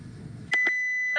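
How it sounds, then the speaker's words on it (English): A kitchen timer beeps while muffins bake, two sharp electronic beeps in quick succession, then a tonal hum and another beep starting, loud and close after a low rumble. "My timer's beeping."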